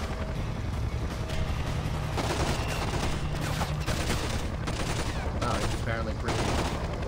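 Dense, continuous gunfire from Splinter Cell: Conviction, with bursts of automatic shots and impacts on concrete crackling steadily throughout, loud and sustained, with voices talking faintly underneath.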